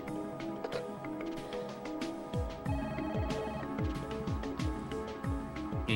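A telephone rings in the Parasite Eve video game, with repeated electronic rings over game music and low sweeping tones, steady and prominent throughout.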